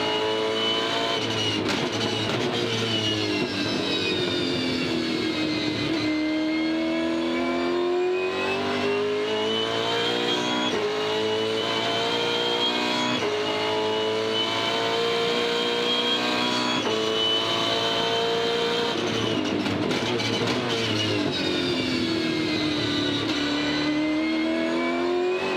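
A Supercars race car engine at Perth screams close and continuously, its pitch rising through the revs and dropping sharply at each gear shift, in a repeating cycle with no talking.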